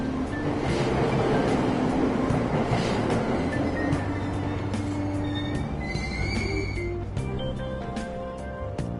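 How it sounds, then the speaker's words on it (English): A Tokyo subway train pulling out of Aoyama-itchome station, a loud continuous rumble of wheels and motor with rising squealing tones and rattling clatter as it gathers speed, heard close from inside. "Train doors are now closing. Please stand back."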